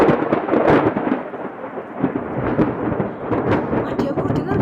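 Deep rolling thunder rumbles continuously and loudly with rain falling beneath it, close and heavy, with no speech over it.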